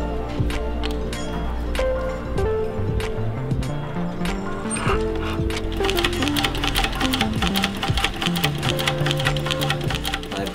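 Sewing machine restitching a Chanel leather bag through its original stitch holes, a steady rapid mechanical rattle running throughout at close range, busy and even with no talking.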